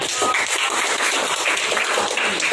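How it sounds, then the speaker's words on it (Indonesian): An audience applauding in a school classroom setting, with a dense, steady patter of many hands clapping close by throughout. "Kasih tepuk tangan buat"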